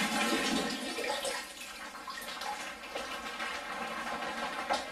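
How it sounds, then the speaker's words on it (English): Hot tap water gushes into and around a plastic wine kit container being rinsed out: a loud, continuous rushing splash close by, with uneven swirling surges throughout. "then you just rinse that under hot water"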